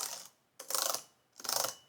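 Metal clinking from the Cherry MX keyboard of an Alienware m17 R5 AMD Advantage Edition laptop: three bright, rattly bursts, each lasting about half a second, close and fairly quiet.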